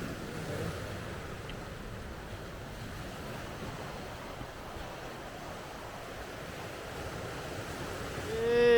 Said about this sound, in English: We're on Melaneros Beach, which is at the other end of the Maspalomas promenade